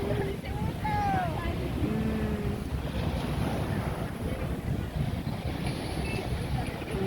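Steady wind and rolling sea waves at East Coast, Singapore, a continuous broad wash with wind buffeting the microphone and faint distant voices beneath.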